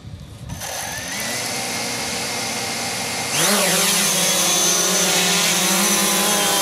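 The motors of a C-Fly Obtain F803 quadcopter drone spool up and take off, building into a loud continuous buzzing whine that rises sharply in pitch and strength partway through and then holds steady.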